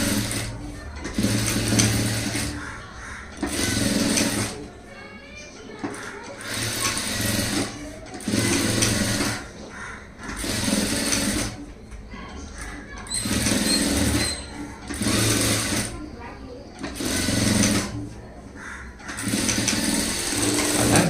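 A sewing machine stitching a front-gap blouse: loud, close bursts of rapid mechanical whirring and needle clatter, repeated in runs of a couple of seconds with short pauses between them.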